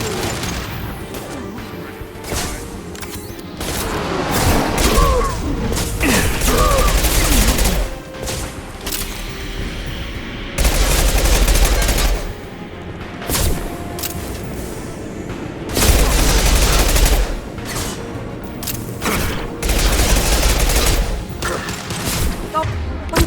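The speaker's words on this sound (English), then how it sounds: "Firing a high-impact shot." High-impact gunshots in a Mass Effect 2 battle against a Krogan, with heavy booming blasts and crashes coming in bursts over continuous combat noise, while voices talk throughout.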